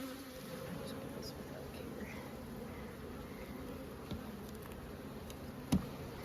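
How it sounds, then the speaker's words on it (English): Drone honey bees buzz at an open hive, a steady low hum of many insects with occasional louder passes near the microphone and faint outdoor background. "Those are all boy bees."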